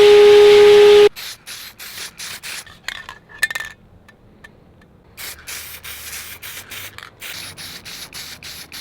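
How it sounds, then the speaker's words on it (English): Car mounts being sandblasted: a loud, hissing blast of abrasive grit comes in repeated bursts, starting with a strong steady spray and then continuing as choppy, rough rushing with brief pauses. "I'm gonna go ahead and sandblast them and use the only paint that I'm willing to use"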